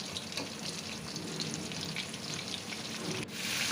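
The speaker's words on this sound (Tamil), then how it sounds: "ப்ரான் நல்லா ஆயிலில் ஃப்ரை ஆகிட்டுருக்கு." Prawns fry in hot oil with a steady, faint crackling sizzle, continuous and close, with a brief stir sound near the end and no talk.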